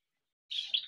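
After silence, Java sparrows give a single short, high, thin chirp, close and clear, ending the moment abruptly.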